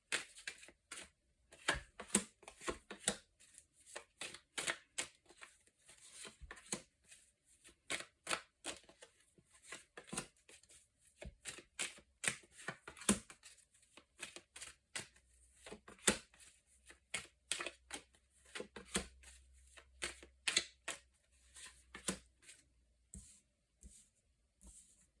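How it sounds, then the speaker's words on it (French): Tarot cards are shuffled and drawn by hand, giving crisp, rapid flicks and soft slaps in uneven bursts, close and quiet with no talking. "Alors, tirage en 9 cartes."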